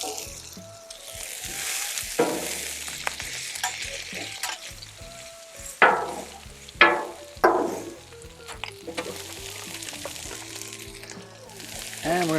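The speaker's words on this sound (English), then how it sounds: "Some oil down here. Do some of our veggies. Our onions right there." Onions and corn sizzle in oil on a Blackstone griddle, a steady loud frying hiss throughout with sharp scraping and stirring bursts from a spatula, no talking.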